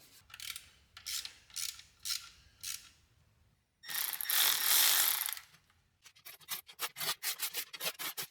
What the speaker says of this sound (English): Now I ran them up with the cordless ratchet just to get them close, and then I'm doing the final torque obviously by hand.